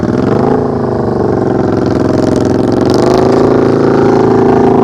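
A motorcycle engine runs steadily and loudly at low revs during slow-speed riding practice, the throttle held in a smooth, continuous drone that rises slightly partway through.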